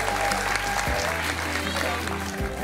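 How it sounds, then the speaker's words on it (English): Wedding guests clap at a Basilica wedding reception, a dense wash of applause that sits under loud, steady room sound and low music-like tones throughout. "that deserves a clap right there."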